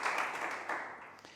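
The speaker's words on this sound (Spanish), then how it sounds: "Y ahora démonos un aplauso por todos los que estamos aquí" A church congregation applauding together, a dense wash of clapping from many hands that holds steady for a moment and then starts to fade, heard without talk.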